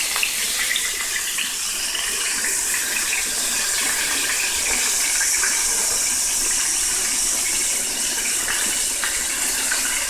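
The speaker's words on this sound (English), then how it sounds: "I'm going to rinse my fingers off" Tap water runs steadily over fingers as they are rinsed under a faucet, a continuous close splashing hiss with no talk.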